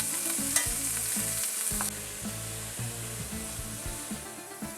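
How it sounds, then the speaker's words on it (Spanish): Meat searing in very hot olive oil in a stew pot for Greek kokkinisto, a steady loud close sizzle and crackle that runs throughout with no talking. "Ahora que nuestro aceite está bien caliente, voy a agregar la carne y no la voy a mover"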